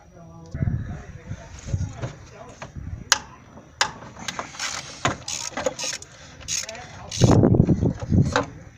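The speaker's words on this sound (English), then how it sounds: "now I can get my socket, my swivel socket down in there to gain access to that mounting bolt" A swivel socket wrench works on an engine mounting bolt during an intake removal on a 2011 Nissan Cube Krom, with scattered metallic clicks, ratcheting and clunks close by while someone talks.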